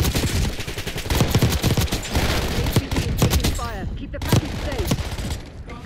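Video game gunfire from a Saug SMG fired akimbo crackles in dense, rapid bursts of close shots, loud and nearly continuous, with brief pauses and faint voices mixed in.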